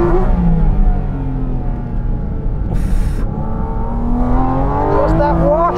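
A mid-engined Porsche GT4 RS accelerates hard on a race track, its engine note climbing steadily in pitch through the gears, loud and close, with a brief burst of noise midway and someone talking underneath.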